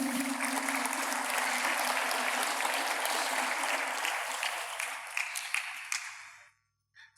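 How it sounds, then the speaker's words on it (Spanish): An audience applauds after a talk, dense steady clapping from a crowd that holds strong for several seconds, then thins and fades out near the end. "Un aplauso para David."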